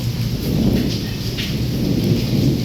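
Heavy first monsoon downpour with thunder and lightning in Wankaner, India: a dense, steady roar of rain with low rumbling underneath, close and loud, no voices.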